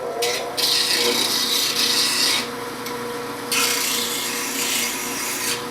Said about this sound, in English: turn the grinder on and go ahead and sharpen it